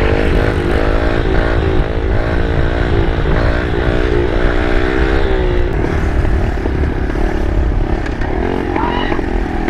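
A pit bike engine running, a steady, loud buzzing drone with wavering pitch as it revs, close up and continuous through the clip.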